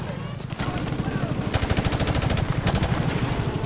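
Rapid bursts of automatic gunfire in the military shooter Call of Duty Modern Warfare Remastered, loud and close, with short gaps between volleys and a player talking over the shooting.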